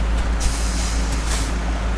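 A timber-laden trailer truck idles with a deep, steady engine rumble while its air brakes let out two sharp hissing bursts, close and loud, on a makeshift detour bridge.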